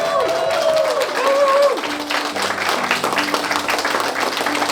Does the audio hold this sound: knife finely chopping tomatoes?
no